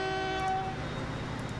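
A train running in the video game Transport Fever, sounding a sustained horn tone over a steady, loud rumble of engine and rail noise, with no voices.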